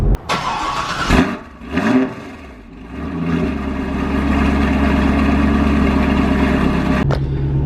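A Chevrolet Corvette is heard from inside during city driving, with a few thumps and rustles at first, then a steady, deep engine drone that builds and holds before briefly dropping away near the end.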